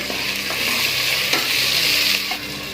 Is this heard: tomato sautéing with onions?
yes